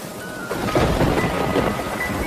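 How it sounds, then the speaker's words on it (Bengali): Cartoon storm effect of rumbling thunder over steady rain, a broad roar that swells after the first half-second and holds loud and close throughout, with no voices. "বলতে না বলতেই ঝড় শুরু হয়ে গেল।"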